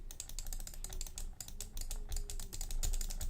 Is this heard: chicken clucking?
no